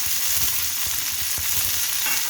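Cluster beans dropped into hot oil with garlic and cumin, frying with a loud steady sizzle and repeated scraping stirs of a spatula against the pan, close up and with no talking.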